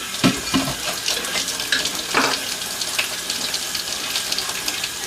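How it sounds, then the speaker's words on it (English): Hands are washed under a running kitchen tap: a steady stream of water splashes and gushes into the sink, with occasional louder splashes as the hands move through it. "first I'm going to start by washing my hands"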